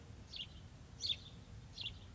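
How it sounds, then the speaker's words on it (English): Faint, distant bird chirps come in three short bursts over quiet outdoor background noise in a meadow near Descanso, California. "hear the birds anyway. The singing of the birds."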